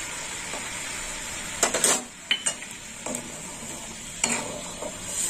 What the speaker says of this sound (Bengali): একটু নেড়ে ছেড়ে নেবো।